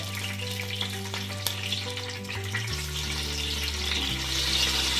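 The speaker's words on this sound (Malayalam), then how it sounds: "3 ഏലക്ക, ഒരു തക്കോലം. ഇതിട്ട് നല്ലോണം മൂപ്പിക്കുക." Cardamom pods, cloves and star anise fry in hot fat for chicken pulao, a soft close sizzle with occasional light crackles and steady background hum, fairly quiet and unbroken, no speech.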